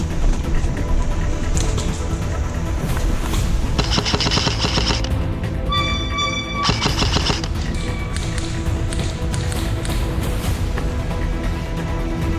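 Airsoft guns fire in bursts and single shots during an outdoor team deathmatch at a field, with a steady stream of rapid pops and clicks from near and farther players and no talk.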